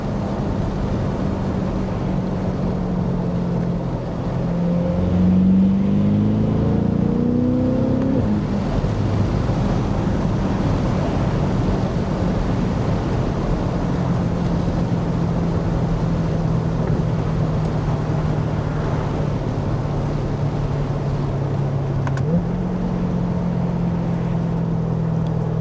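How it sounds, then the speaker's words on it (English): Low, steady exhaust drone from a Corvette C8 sports car, heard up close as it changes pitch while accelerating and then settles into a long, even cruise, with a brief shift in tone near the end. "the exhaust on this car sounds really good from a stock standpoint. Lots of crackling, lots of popping and burbling."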